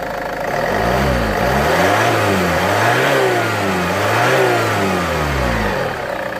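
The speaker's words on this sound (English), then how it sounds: "So I'm going to rev the engine" Land Rover Freelander 2 SD4 diesel engine revved in repeated swells, climbing and falling several times, loud and close with no talking.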